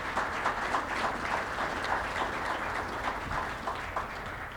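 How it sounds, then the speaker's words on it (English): Audience applause at a university baseball head coach press conference, a moderate, even wash of clapping from a seated crowd, continuous and somewhat distant throughout. "Please give them a big round of applause."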